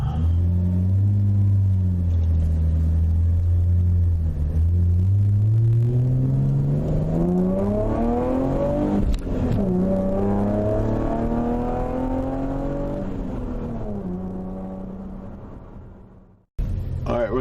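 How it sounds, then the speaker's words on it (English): A 2014 Chevrolet Camaro V6 with MRT version 1 exhaust revs up in one long, loud, rising pull, its deep rumble climbing in pitch before easing back down and fading near the end. "is a 2014 Chevrolet Camaro V6 with the MRT exhaust version 1, and I'm just showing you how it sounds today"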